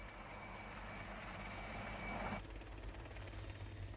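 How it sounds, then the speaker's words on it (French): Faint steady rotor drone of a military helicopter providing air cover during a coastal operation, continuous with a slight shift partway through. "Des hélicoptères assurent la protection aérienne de l'opération"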